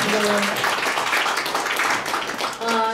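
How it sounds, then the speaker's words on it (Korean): Applause from guests at a Korean launch ceremony in a Seoul press center hall, following a commemorative speech; a dense, steady wash of clapping fills the room for about three seconds, with brief voices at the start and end. "다시 한번 박수로 우리 잘하시라고 한 박수 부탁드리겠습니다"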